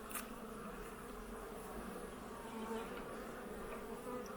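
Dense, steady buzzing of many honeybees close by inside a hive, a continuous low hum with a faint click early on.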